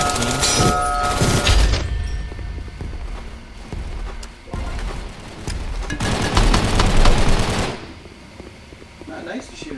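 Rapid automatic gunfire from the VR shooter Gun Raiders crackles in dense bursts with short gaps, loud and close, over steady game background noise.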